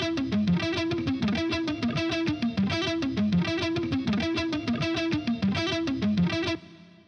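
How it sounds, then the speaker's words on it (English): Distorted electric guitar plays busy selective picking with hammer-ons over an altered scale, a rapid, rhythmic stream of notes with a chorus-like effect, steady and loud until it cuts off near the end. "So your left hand would play hammer-ons out of nowhere, and then your right hand would pick some other strings along with it."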